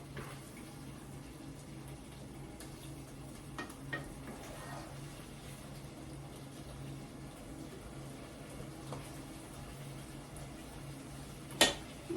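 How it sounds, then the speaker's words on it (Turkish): Minced meat and onion sautéing in a pan, a quiet, steady sizzle broken by occasional light clinks and scrapes from stirring, ending with one sharper knock. "Soğanı, kıymasını kavuruyorum."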